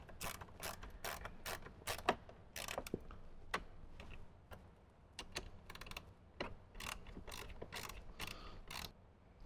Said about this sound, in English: grab your 7mm socket and go ahead and get that tightened down.